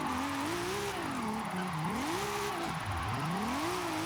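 A front-wheel-drive drift car accelerates and slides in Forza Horizon 5, its engine note rising and falling in steady sweeping swells as the revs climb and drop, loud and continuous with no talk.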